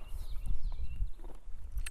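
Hooves of Penny, an off-the-track Thoroughbred mare, clip-clop on the ground in a few uneven, fairly close steps as she backs up, with faint background noise between the steps.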